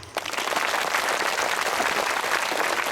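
An audience applauds at a Buddha Poornima gathering, a dense, loud wash of many hands clapping that starts abruptly and continues steadily from close by.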